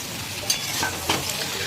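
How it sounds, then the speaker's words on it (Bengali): Eggplant tipped into a pan of papaya and other vegetables already frying, making a brief close sizzle with a couple of soft stirring clatters. "এই সময় দিয়ে দিচ্ছি বেগুন"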